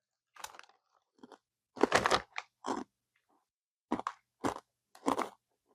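Ruffles Lay's potato chips crunched and chewed up close, a string of loud, crisp bursts separated by short pauses of near silence.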